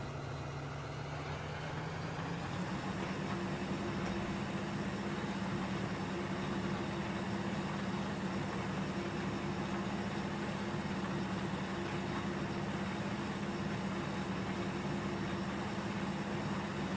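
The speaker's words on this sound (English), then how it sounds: "Let's get this tractor started." A tractor engine in Farming Simulator 2013 starts up and settles into a steady low idle drone that holds evenly throughout, with no talking.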